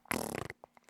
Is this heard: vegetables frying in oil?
no